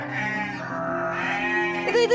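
A goat bleats in a long, strained, wavering call close by as it resists being pulled, with the cry rising and breaking near the end.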